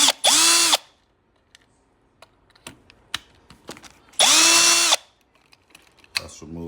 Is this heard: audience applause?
no